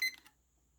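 A timer gives a short, bright electronic beep as it starts, a brief chirp followed by near silence.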